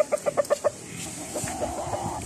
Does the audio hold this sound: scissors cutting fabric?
no